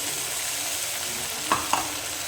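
A pan of onions sizzling steadily at low level as a ginger, cumin, chilli and tomato paste goes in, with a couple of brief sharp clinks of a utensil near the end.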